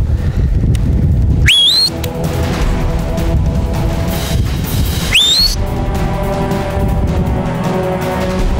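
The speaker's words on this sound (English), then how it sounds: "Okay, I'm gonna whistle now, okay?" During a hunt, a person whistles twice, each a sharp rising tone several seconds apart. Both are loud against a steady, rumbling outdoor background.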